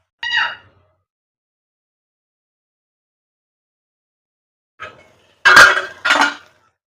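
A metal lid clanks onto a pot of fish curry cooked with tender tamarind leaves. One brief clink comes first, then after a pause a soft tap and two louder, close clangs.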